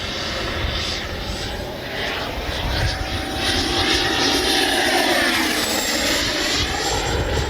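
A FlyFans L-39 radio-controlled model jet with a 64 mm electric ducted fan whines steadily overhead, its high-pitched fan tone rising and falling in pitch as it passes and loops through the air.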